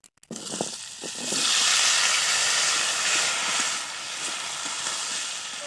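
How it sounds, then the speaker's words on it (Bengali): Maan kochu (taro) hisses and sizzles as it fries in oil left from frying fish, with dried chilli and cumin in the pan, a loud, steady, bright sizzle rising after a few sharp knocks at the start. "কচুটাকে ভালো করে আমরা প্রথমে ভেজে নেব"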